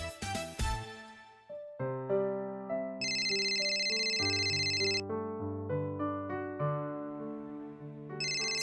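A phone ringtone plays for an incoming call from Saumitra: a clear synthetic melody of stepping notes, punctuated by bright high chime tones, loud and alone without talk.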